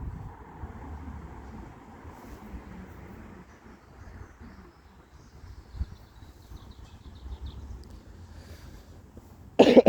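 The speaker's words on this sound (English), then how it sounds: "Sorry about my cough." A person coughs near a railway at Coseley: a low rumble of passing trains fills the background, and then one loud, abrupt cough breaks in close by at the very end.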